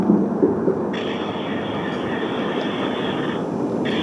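A train rumbles past trackside at the CSX line in Dalton steadily with a broad low roar, a high metallic tone rising over it and cutting in and out near the end.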